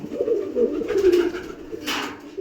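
Pigeons kept in pairs coo close by in soft, rolling low murmurs that run continuously through the moment, with a brief rustle near the end.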